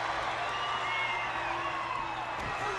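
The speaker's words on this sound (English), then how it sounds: "This crowd is going crazy" A wrestling arena crowd at WCW SuperBrawl II, during a Sting versus Lex Luger match, roars in a dense, sustained wash of cheering and shouting that stays loud across the moment.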